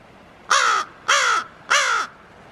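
Crows kept indoors give three loud, evenly spaced harsh caws, each about a third of a second long, close by with no talking.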